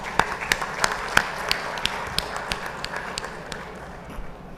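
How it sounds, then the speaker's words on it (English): A round of applause at a steel industry conference CEO roundtable in India, with sparse individual claps that thin out over a few seconds in a large hall. "and of course Mr. Vinod Kumar Tripathi, I would like to request all of you to carry out the vote of thanks with a round of applause."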